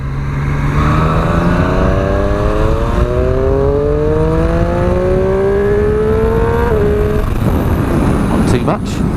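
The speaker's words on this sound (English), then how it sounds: "It's got that amazing triple engine and it sounds just brilliant." A 2017 Triumph Street Triple RS with its triple-cylinder engine accelerates hard up through the gears, the engine note climbing steadily and then dropping at each quick-shifted change, loud and close with wind noise throughout.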